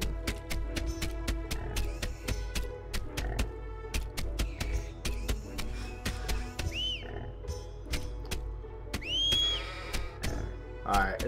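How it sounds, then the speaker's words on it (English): Cartoon sheep bleat in the video game Fluffy Doki Sunshine, a few short rising and falling cries over a busy layer of rapid clicking game sounds and music, with a player talking now and then. "My sheep are back."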